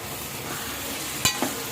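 Onions sizzle steadily in a hot pan as ginger paste is added, a soft continuous frying hiss broken by two brief sharp crackles near the end.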